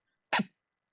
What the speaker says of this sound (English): Yeah, I sneezed.